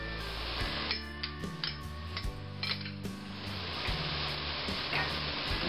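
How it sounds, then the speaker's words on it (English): Butter is worked into a reduced mushroom soup in a pan, with a steady sizzle under intermittent scraping and clinking of a utensil against the pan at close range. "So what we want to do now is just go ahead and work in the butter."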